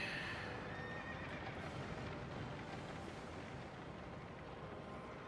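Horses neigh from a chariot during a boss fight in the video game Dark Souls II on PS3, a loud continuous roar of whinnying and game noise lasting throughout with no pauses.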